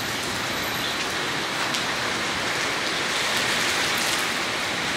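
Heavy rain pours down on an open supermarket parking lot in a dense, constant hiss of drumming drops, loud and unbroken throughout with no talking.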